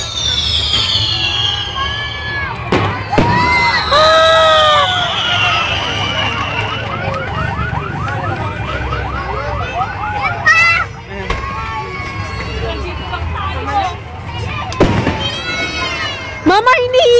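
A fireworks display at Mall of Asia on December 25, 2009 sends out sharp bangs and rising whistles over a noisy crowd, with nearby people talking throughout.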